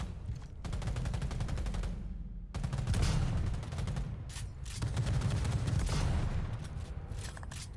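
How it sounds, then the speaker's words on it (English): Gunfire from Cyberpunk 2077, dense rapid automatic bursts in several long volleys separated by brief gaps, loud and close, with no clear talk over it. "Flashbang."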